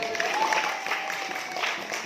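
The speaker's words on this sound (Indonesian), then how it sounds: "Tepuk tangan." Audience at a quiz contest at an Islamic boarding school clapping, a brief, fairly faint and even patter of applause heard from a moderate distance, with a faint voice over it.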